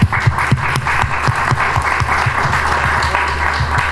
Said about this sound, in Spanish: ahorita daremos primero un fuerte aplauso